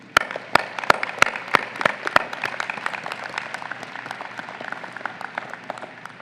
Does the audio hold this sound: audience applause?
yes